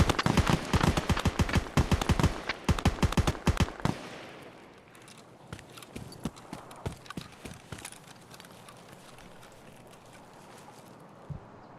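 Video game gunfire exchange: rapid, loud bursts of automatic fire for about four seconds, then scattered single shots and short volleys continuing at a distance, with no talking.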